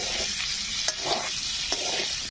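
Fish sizzle steadily in hot mustard oil with turmeric and salt, a constant close crackle of frying with a few soft scrapes of stirring.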